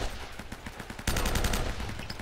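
Gunfire in the video game Uncharted: Drake's Fortune comes as a rapid stream of shots that swells into a louder, denser burst partway through the brief moment.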